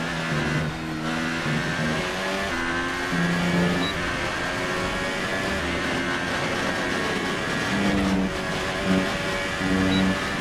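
A Formula 1 car in F1 2018 at Hockenheim screams along in seventh gear, its engine a loud, sustained high whine with brief dips at gear changes.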